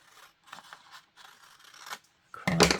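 Scissors snip through paper while a collage is being cut, with a few short, crisp cuts followed by a louder, closer burst of rustling paper at the end.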